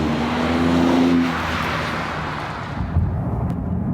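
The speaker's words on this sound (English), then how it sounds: "And now to some city driving" A Porsche 911 Turbo S of the 992 generation drives through city streets, its engine droning close and steady before easing off into quieter road noise.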